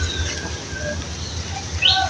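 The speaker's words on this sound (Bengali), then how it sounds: "এই যে একটি কবুতর আমার হাতের উপরে উঠেছে" A pigeon flaps its wings as it climbs onto a person's hand, with soft fluttering and a sharper burst of wingbeats near the end over faint background noise.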